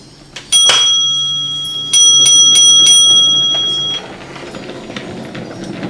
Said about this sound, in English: The next train to arrive at this station, as heard by the bell code 1-4.